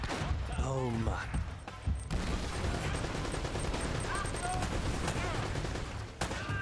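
Gunfire and a grenade in the video game Uncharted: Drake's Fortune: dense, rapid volleys of shots fill the whole stretch, with voices calling over the fighting.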